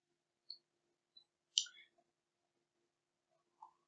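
A few sparse, quiet clicks, like a computer mouse, spaced irregularly in near silence.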